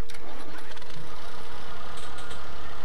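An old tractor engine cranks and starts in a farming video game, a loud mechanical churn that runs steadily throughout.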